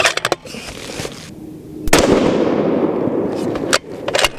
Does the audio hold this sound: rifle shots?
yes